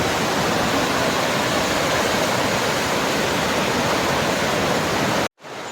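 A forest waterfall in Rayagada, Odisha, pours with a loud, steady, full-bodied roar that stays unbroken for over five seconds before cutting off abruptly.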